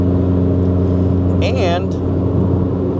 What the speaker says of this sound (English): The exhaust that you're hearing right now is not like some aftermarket exhaust